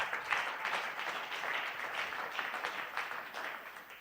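A church congregation applauds and cheers loudly during a Sunday praise and thanksgiving worship service, a dense, steady wash of clapping sustained throughout without pause.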